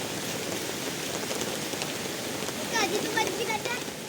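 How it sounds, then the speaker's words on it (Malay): Steady rain patters down at a campsite in Batu Kurau, a dense even hiss close by, with a faint voice-like sound briefly rising over it near the end. "Hujan dah reda."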